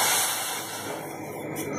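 Water poured into a hot kadai on a gas stove, a loud steady hiss of steam and spray that fades slightly over two seconds.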